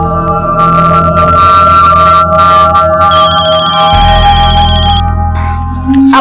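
A phone rings loudly and continuously with an electronic ringtone melody, changing tune partway through, close and dominant with no talk over it.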